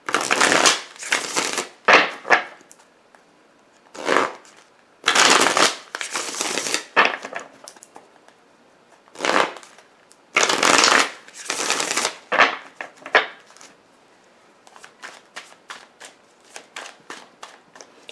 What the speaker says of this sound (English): Let me get some clarifying cards here.